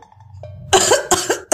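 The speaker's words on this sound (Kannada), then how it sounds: "ಶಾಸ್ತ್ರಿಗಳು ಈಗ 3 ಬಾರಿ ಕೆಮ್ಮಿ" An old man coughs three times in a narrated story, with a brief quiet voice first and then three loud, close, harsh coughs in quick succession.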